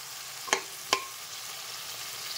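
Chicken kosha fries in a pan with a continuous soft sizzle, broken by two quick spoon scrapes or taps close together early on.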